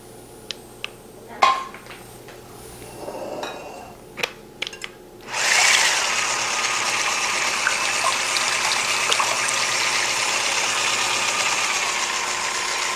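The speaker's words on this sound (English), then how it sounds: "I usually use my blender, but I figured it'd be easier for the show to just use a stick." Stick blender mixing crepe batter with brandy: after a few clinks and taps of utensils and dishes, the motor starts with a loud, steady whirring buzz that runs continuously to the end.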